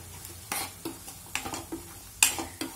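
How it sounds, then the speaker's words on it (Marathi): Mushroom curry with white pepper and garam masala sautéed in a pan, several quick spatula scrapes and clinks against the metal over a light sizzle, close up and without speech. "आणि सगळं व्यवस्थित जे आहे ते आपल्याला इकडे परतून घ्यायचंय."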